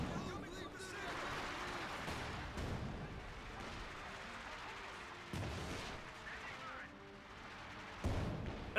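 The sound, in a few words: mortar and machine gun fire in Company of Heroes 2 video game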